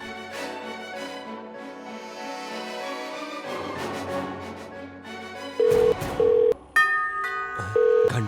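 A telephone is dialed to call someone, with a few short loud dialing tones in an uneven sequence over a swelling music score.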